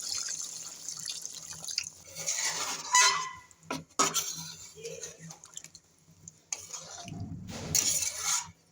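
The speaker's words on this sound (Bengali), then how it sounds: "আমি এবার ঝোলের জন্য জল দিয়ে দিচ্ছি" Water poured into a simmering pot of chicken curry with potatoes to make the gravy, heard as a few splashing and dripping bursts, ending in a louder, fuller gush of pouring.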